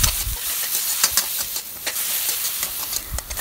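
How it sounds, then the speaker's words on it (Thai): Minced pork stir-fries with garlic in a hot pan, giving a continuous hissing sizzle broken by repeated scraping strokes of the spatula at a moderate, uneven rhythm. "ขั้นตอนนี้ให้เราใส่หมูสับลงไปค่ะแล้วก็ผัดต่อค่ะ"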